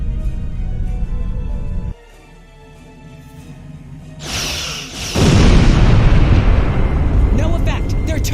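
Starship weapons fire and explosions in a Star Trek space battle game: a loud rumbling mix drops to a quieter hum, then heavy booming blasts build and erupt into sustained roaring explosions.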